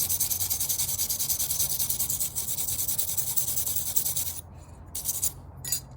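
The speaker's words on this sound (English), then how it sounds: "I'm going to just clean this up with a metal brush." Car brake parts with light corrosion are scrubbed with a metal wire brush, producing a close, steady scratchy rubbing in rapid strokes that stops briefly near the end.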